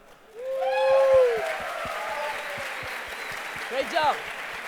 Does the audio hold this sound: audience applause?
yes